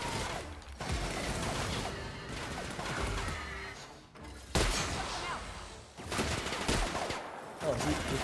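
Rapid gunfire from the video game The Outer Worlds crackles in dense, repeated bursts with brief pauses between volleys, loud and close, while a voice talks intermittently over the shooting.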